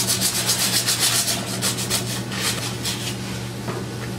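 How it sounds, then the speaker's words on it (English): Emery cloth rubbed around a pipe to strip paint, rust and contamination before a pinhole seal repair, a close, rhythmic scratchy rasping in quick repeated strokes that gradually soften. "Use your emery cloth, 360 degrees around the pipe itself, removing any contamination"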